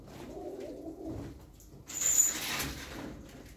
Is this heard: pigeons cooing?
yes